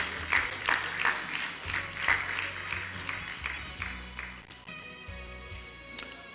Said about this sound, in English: Please, a round of applause for Sister Kathleen.